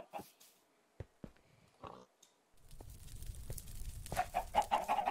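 Minecraft chicken clucks sound in short bursts over a quiet game background, followed by louder chicken noises and busier game sounds in the second half.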